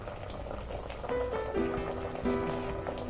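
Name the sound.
sambar boiling in a pot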